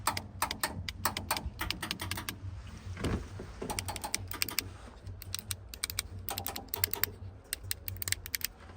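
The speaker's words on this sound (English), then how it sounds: "Let me show you guys that I wired up that and the valves work." Electric air suspension valves on a vehicle with dual compressors clicking in quick bursts of sharp ticks, repeated in clusters with short pauses, close and fairly faint against a low steady hum.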